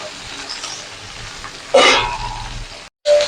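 Carrots, beans, capsicum and tomato drop into a hot frying pan for a vegetable pulao, setting off a sudden loud sizzle that keeps crackling steadily, then cuts out briefly before resuming.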